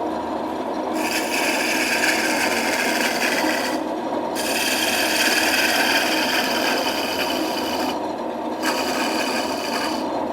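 A wooden spinning top turning on a lathe is cut by a tool in three long raspy passes with short pauses between, over a constant motor hum.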